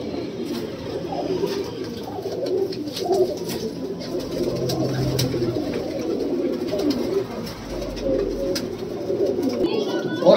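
Punjabi Malwai Madrasi pigeons cooing in soft, repeated low murmurs, close and continuous, with someone talking over them.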